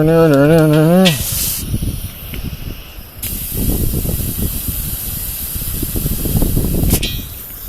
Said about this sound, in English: So all you do is stick some air in it from the air compressor